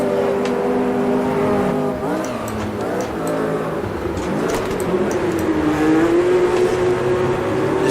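A Lotus 49C race car engine at Jerez in a sim racing game drones loud and steady, its pitch dipping and climbing through gear changes and corners, with nothing else competing.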